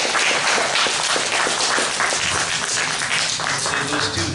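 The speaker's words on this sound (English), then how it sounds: "Let's give the sisters another round of applause." A church congregation applauds for two sisters, dense loud clapping that fills the room continuously, with voices mixed into the roar.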